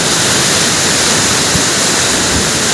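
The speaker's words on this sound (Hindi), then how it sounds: "बहुत ही पानी का शोर है इधर।" Loud, steady rushing of a water stream near a roadside, a continuous broadband roar filling the whole moment with no pauses or voices.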